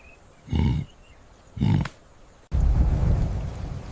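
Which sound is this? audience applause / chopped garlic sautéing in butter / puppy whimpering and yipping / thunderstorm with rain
thunderstorm with rain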